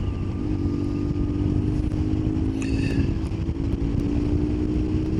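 A custom BMW R1150GS Scrambler motorcycle pulls strongly through the revs on an open road, its steady engine drone close and loud with heavy wind rush across the microphone throughout.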